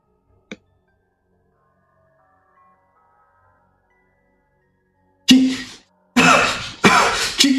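After a single soft click and long quiet, a few loud, harsh coughs burst out close by, three rough fits in quick succession.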